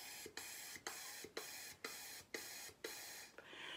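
Tongued bursts of breath through a straw in a clarinet articulation exercise, seven evenly spaced airy puffs, each starting with a crisp attack and sustaining as a steady hiss, close and alone.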